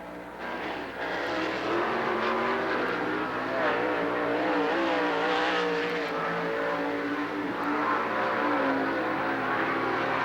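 A sprint car laps Lernerville Speedway during an All Star Sprints heat race, its engine a sustained loud roar with wavering pitch, steady throughout at a moderate distance.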